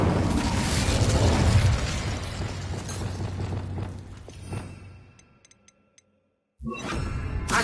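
Incendio fire spell cast in the Hogwarts Legacy video game, a loud roaring, crackling burst that sustains for several seconds, fades out into near silence, then another dense rush of sound cuts in sharply.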